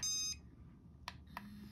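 A dog shock collar in vibrate mode gives a brief electronic tone and then two short, faint buzzing pulses against a quiet background.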